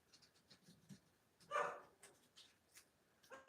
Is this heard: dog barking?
yes